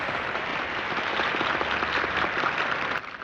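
Applause for a stage performance in the film Citizen Kane, a dense, even round of crowd clapping that holds steady and then drops off abruptly near the end.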